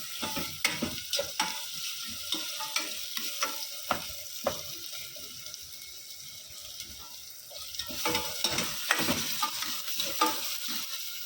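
Spinach dal with onions stirred in a pan on a gas stove: irregular scraping and clinking spoon strokes over a low sizzle, quieting in the middle before brisk stirring resumes, with no talking.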